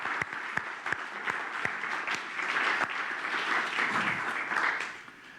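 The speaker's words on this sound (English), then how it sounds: "Let's give them all a round of applause." Audience applause for the musicians, starting as a few sharp, separate claps and swelling into a fuller, continuous round before easing off, moderately loud.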